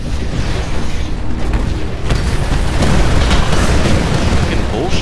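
A torpedo blast in the shooter Titanfall: a deep rumbling explosion rising out of steady loud combat noise, with continuous gunfire and machinery din around it.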